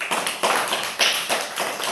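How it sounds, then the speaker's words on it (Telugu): A small group claps hands together, a few close bursts of quick slaps repeating in steady rhythm with brief pauses between them, crisp and fairly loud. "క్లాప్స్"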